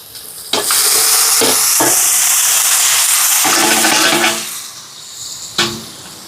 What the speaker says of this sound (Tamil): இப்போ தக்காளி பழம் எல்லாம் நல்லா வதங்கிட்டு இனி வந்து சிக்கனை துப்புராக்கி வச்சுருக்கேன். சிக்கனை சேர்ப்போம்.